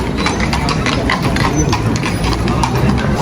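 Horses walk on a city street in Vienna, their hooves clip-clopping in a quick, steady series of clicks over a loud rumble of engine and traffic.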